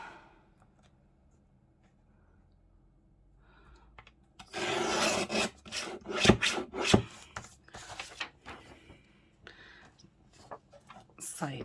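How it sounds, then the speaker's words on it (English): Small paper trimmer cutting through a file folder, heard after a near-silent start as several close, sharp crisp strokes and rustles, with faint talk. "I should be able to just do this with my small trimmer."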